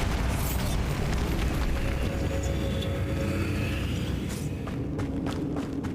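A Bombarda spell explosion in Hogwarts Legacy, a loud, sustained rumbling blast with crumbling debris and scattered cracks inside a stone tomb, fading slightly toward the end.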